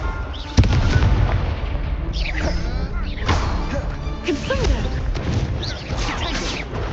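A Confringo fire spell cast in the Hogwarts Legacy video game, one sharp explosive burst followed by crackling, booming magical blasts and whooshing effects, loud and continuous over a few seconds.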